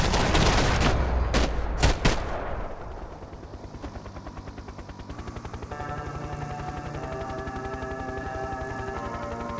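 Gunfire in Max Payne 3 aboard a party yacht: a few loud, sharp shots in the first two seconds, followed by a steady rapid stutter of automatic fire that continues to the end.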